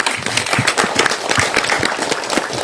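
A crowd bursts into loud, dense applause for a film director, many hands clapping at once in a continuous crackling wash.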